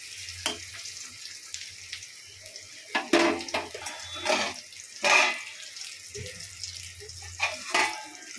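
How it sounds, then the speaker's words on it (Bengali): Water poured into a hot pan of catla fish curry with drumsticks and potato brings bursts of hissing and splashing over a low crackle of frying, with pauses between pours. "একটু জল দিয়ে দেবো এবার।"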